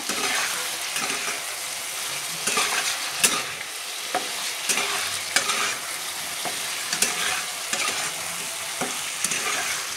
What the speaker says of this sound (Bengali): তো এখন আমি বেগুন আর আলুটা দিয়ে দেবো, দিয়ে একটু নাড়াচাড়া করব।